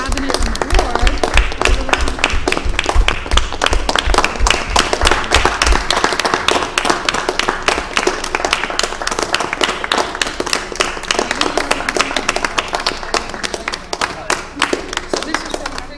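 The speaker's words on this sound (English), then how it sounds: "we want to give him a big round of applause, and the cabinet and board" An audience at a school district board meeting applauds the superintendent with sharp, energetic clapping close by, sustained over the whole stretch, with some voices mixed in among the hands.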